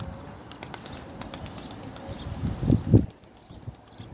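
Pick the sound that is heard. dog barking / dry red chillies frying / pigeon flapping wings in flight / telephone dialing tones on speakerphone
pigeon flapping wings in flight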